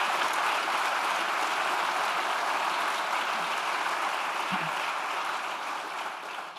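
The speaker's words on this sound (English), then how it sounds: "I think we have another round of applause for both for this special evening." Dense, sustained applause fills the hall at an evening awards ceremony, a steady wash of many hands clapping at once that tapers slightly toward the end, with no talking over it.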